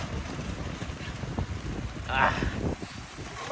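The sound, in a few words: heavy rain and strong wind while cooking outdoors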